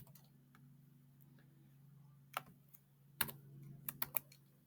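Code is typed on a computer keyboard in a quiet room: faint, sparse key taps, then a few sharper clicks near the end over a low steady hum.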